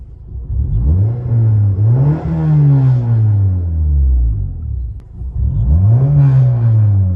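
A modified car's sound changer plays a loud synthetic engine rev that climbs and falls in two long sweeps, a deep close droning whine with a brief dip between the revs.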